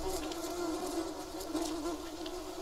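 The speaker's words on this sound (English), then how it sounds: "we've got the beehive here" A beehive in the jungle survival game Green Hell buzzes in a steady, close drone of many bees, with individual bees whizzing past now and then and no talk.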